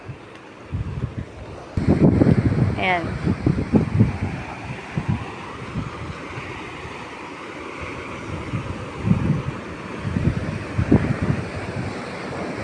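Sea waves and wind at Phase 4 beach in Barangay Makabubuni, Agno, Pangasinan, by a rocky shore, with heavy gusting wind noise over the microphone, surf washing in and someone speaking briefly early on.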